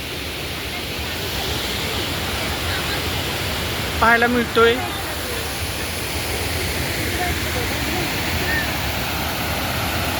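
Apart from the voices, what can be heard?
waterfall rushing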